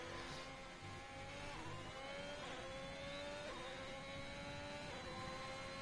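Ferrari racing car engine from a video game, lapping a track at a Mexico round: a steady, loud whine with rising and falling pitch as it accelerates and shifts, continuous throughout with no talk.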